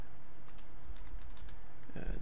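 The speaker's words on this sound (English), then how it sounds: "So just start typing it in." Rapid, light keystrokes on a computer keyboard tap out a short burst of typing against a steady background hum, followed by a brief low thump at the end.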